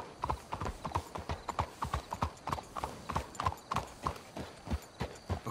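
Horse hooves clip-clop in steady, repeated beats while riders travel through Red Dead Redemption 2, the footfalls fairly loud and close with a low rumble beneath.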